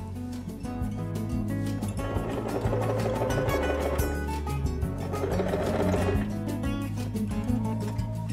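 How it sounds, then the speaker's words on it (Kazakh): A sewing machine stitches one edge of a zipper onto fabric with a fast, rhythmic mechanical chatter that runs loud and continuous throughout, with slight changes in pace. "Мінекей біз сыдырмамыздың бір шетін тігіп болдық"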